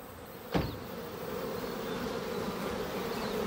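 A steady hum of bees buzzing outdoors, continuous and fairly soft, with one insect passing close by early on.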